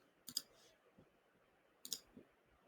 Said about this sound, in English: go back to original and click on reading